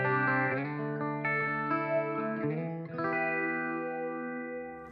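Electric guitar played through a phaser effect in the Overloud TH-U amp plugin, sustained chords and notes with a sweeping, swirling tone, loud and close with no talking.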